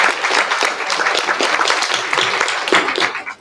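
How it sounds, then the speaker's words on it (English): An audience at an entrepreneur summit gives a round of applause for the event organizers, with brisk, full clapping throughout that tapers off at the end. "Please give them a round of applause for organizing this wonderful event."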